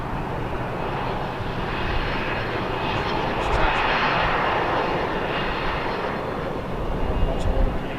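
Small cargo planes taxi at Harrisburg airport at night, a steady broadband engine roar that holds level and swells slightly toward the end, with voices faintly present under it.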